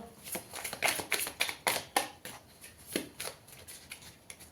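Tarot cards shuffled for a reading draw, a quick papery riffle repeating in short bursts with taps between them, close and fairly quiet, no voices.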